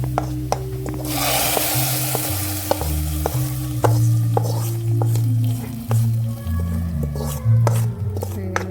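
Loud sizzling and crackling as hot tempering of curry leaves, shallots and dried red chillies hits a chicken curry, with utensil taps and scrapes, while a low hum and tones run beneath.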